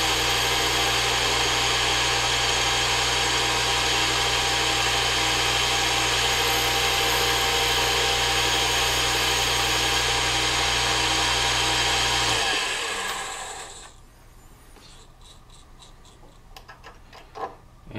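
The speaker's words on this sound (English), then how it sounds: "One of the great things about these lathes is they'll spin pretty fast, which is exactly what you need for machining this kind of material." A small Unimat lathe spins fast while turning a plastic workpiece, a loud, steady hum and whir holding for about twelve seconds, then winding down and fading to a quiet background with a few faint clicks.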